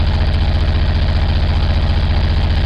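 A Smart Fortwo car fitted with a 1275GT engine, running on choke and smelling of petrol, idles nearby with a steady, slightly lumpy throb, loud and continuous with no voices.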